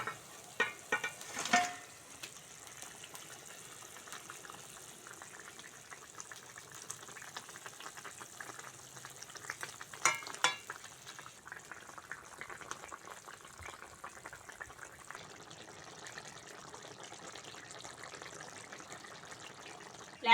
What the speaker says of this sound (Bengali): মাছের ঝাল ভালোভাবে ফুটে গেছে